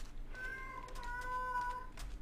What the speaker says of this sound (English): And I like how the cat shuts up.